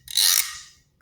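A single rasping scrape of a stick along the notched surface of a guiro gourd, close and bright, swelling quickly and fading within under a second, followed by a brief fainter second stroke.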